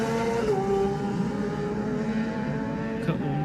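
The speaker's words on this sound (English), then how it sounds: "now it's going to be the number 6 Honda of Nathan Harrison away" A number 6 Honda racing motorcycle pulls away from the start of a Classic TT Junior road race on the Isle of Man, its engine note rising through the gears as it moves off, with a sharp shift near the end.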